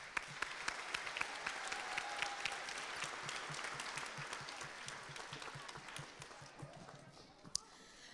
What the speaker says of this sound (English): Another round of applause for all the medal recipients.